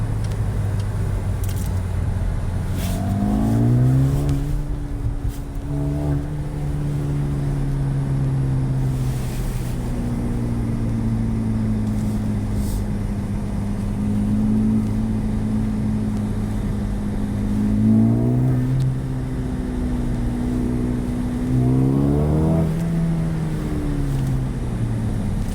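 A 2020 Mercedes-AMG CLA 35 engine revs repeatedly while driving at night, rising and falling through the gears in smooth sweeping pulls over a steady low drone, heard close without talk.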